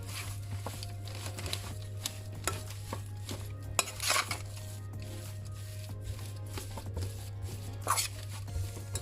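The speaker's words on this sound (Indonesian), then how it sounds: "Kita aduk ya." A sweet beef dendeng mixture seasoned with chili powder being stirred in a bowl, producing soft, irregular scraping and tapping strokes up close over a steady low hum, with no talk.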